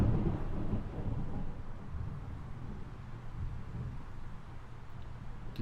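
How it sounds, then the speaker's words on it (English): Thunder cracks overhead and then rolls into a long, deep rumble that slowly fades, loud at first and then sustained and softer underneath. "That thunder just cracked right over my head."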